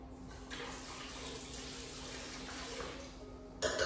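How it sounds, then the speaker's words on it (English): Tap water runs steadily into a sink as mayonnaise is rinsed off sandwich filling, a continuous close splashing stream that briefly brightens near the end. "Rinse off the extra mayonnaise so it doesn't interfere with the taste of it."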